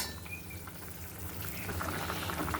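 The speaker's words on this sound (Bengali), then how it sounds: "ঝোলটা ফুটে নিক" Mustard pomfret fish curry gravy simmers and bubbles in a pan, a soft steady burble with small liquid pops, close by and fairly quiet.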